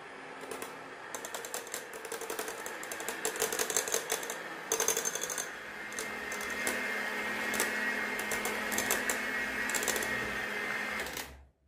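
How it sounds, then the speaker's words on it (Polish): An electric mixer whips cold coffee with cream and mascarpone at high speed, a steady loud whirring buzz with clattering beater noise that runs unbroken and then cuts off at the end. "Miksujemy na szybkich obrotach."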